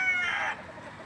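A wet chicken, rained on, gives one harsh, rooster-like call in its first half-second, then fades to quieter low clucks, close by with no talk.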